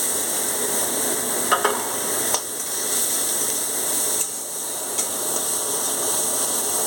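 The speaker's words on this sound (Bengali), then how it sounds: "কুচনো পেঁয়াজটাকে ভালো করে লাল করে ভেজে নেব।" Chopped onions fry in a pan with green chillies for a spicy pomfret curry, giving a steady, close sizzle broken by a few small clicks and stirring scrapes. No one speaks.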